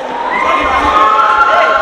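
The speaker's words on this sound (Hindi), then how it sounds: "काफ़ी भीड़ है और भी काफ़ी भीड़ हो रही है यहाँ पे" Dense crowd of visitors chattering and calling out at Borra Caves in Araku Valley, a steady loud wash of many voices with occasional higher shouts throughout.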